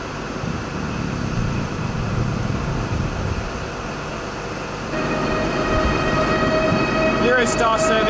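Class 395 Javelin train at London St Pancras, a steady rumbling train sound with a rise in level midway and brief high tones near the end, as a voice talks over it.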